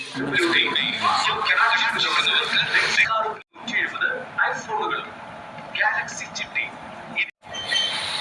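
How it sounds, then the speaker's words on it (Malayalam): Trains arriving and departing at a railway platform, the rumble of passing carriages under constant crowd chatter and station noise, briefly cut twice. "പല ദേശത്തേക്ക് പോകുന്ന ട്രെയിൻ വരുന്നതും പോകുന്നതും ഒക്കെ നോക്കിക്കൊണ്ട്"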